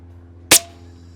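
A single sharp airgun shot cracks out during long-range hunting, one loud close report with a quick decay over a steady low background hum.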